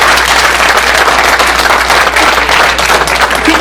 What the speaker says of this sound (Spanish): Sí, ¿escuchaste, maestro, el aplauso